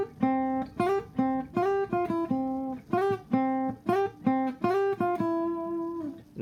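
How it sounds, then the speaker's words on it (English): A short, bright plucked acoustic guitar phrase repeating a catchy melody hook, crisp separate notes with rhythmic gaps, played solo and close. "so there's like 3 different layers going on for the acoustic guitar."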